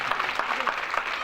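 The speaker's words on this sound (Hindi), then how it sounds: "अब ईमानदारी से ताली बजाइए।" An audience at a Shiv Mahapuran religious discourse gathering claps steadily, a dense, even wash of applause filling the whole moment.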